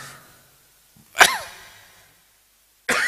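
A single sharp cough during a talk, close and fairly loud, with a short trailing exhale after it and a brief burst of noise at the end.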